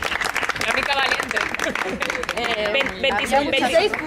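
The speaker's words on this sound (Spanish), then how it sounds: "un aplauso para Sara" Applause breaks out for a woman at a casual Spanish-speaking gathering, steady clapping mixed with chatter, laughter and overlapping voices throughout.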